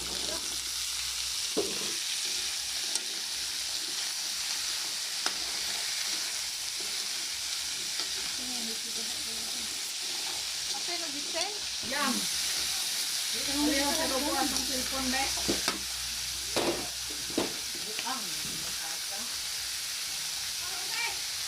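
Ginger, onion and garlic sautéing in a pan for a squash and vegetable coconut stew, a steady close sizzle with scraping stirs throughout while a person talks over it intermittently.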